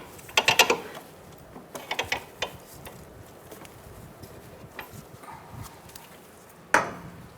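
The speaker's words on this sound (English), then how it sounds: "Just going to pull back with my socket." A socket wrench ratchets while loosening a bolt on a 2004-2009 Mazda 3 during front CV axle replacement, short bursts of clicking near the start and around two seconds, then a final sharp clack.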